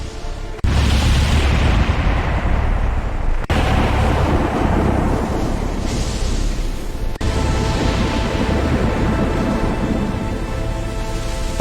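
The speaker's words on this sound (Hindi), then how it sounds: "अचानक आसमान में तेज बिजली चमकी। काले बादलों ने पूरे जंगल को घेर लिया। देखते ही देखते भयानक तूफान उठ खड़ा हुआ।" Thunderstorm over a forest with a heavy, continuous roar of rain and wind, broken by deep booming thunder claps at intervals, loud and close throughout.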